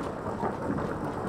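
Rain and a thunderstorm in the game Skyrim: a steady, dense wash of falling rain with a low rumble beneath it, continuous and moderately loud, with no voices.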